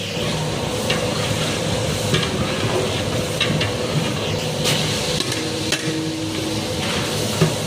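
Vegetables sautéing in a pan for wheat rava kichadi, a continuous sizzle and frying hiss with scattered clinks of a spoon stirring against the pan, close and steady throughout.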